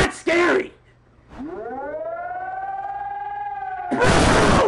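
An emergency alert system siren rises into a long wailing tone that holds steady, loud and close, between bursts of excited shouting.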